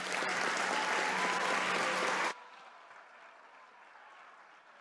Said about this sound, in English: How about a round of applause for our students?